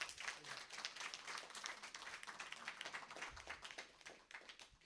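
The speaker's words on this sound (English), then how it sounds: "Give her a round of applause." A small audience at a Heart & Stroke Foundation event in Antigua and Barbuda claps steadily, a fairly faint crackle of applause lasting several seconds.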